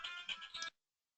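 A phone ringtone chirps in a short burst of bright electronic tones, then cuts off abruptly into silence.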